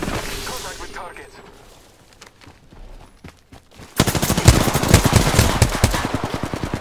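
Automatic gunfire in the battle royale shooter Apex Legends, a loud dense burst of rapid shots that starts midway after quieter game sounds and keeps hammering to the end.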